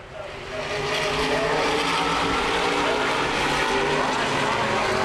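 Open-wheel modified race cars roar around a speedway in a steady, loud engine drone that swells as the pack passes, with no talk over it.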